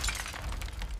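Glass-like shattering crash as the final restraint gives way in a midair clash aboard an aircraft, a dense burst of bright breaking fragments over a heavy low rumble, loud and continuous throughout.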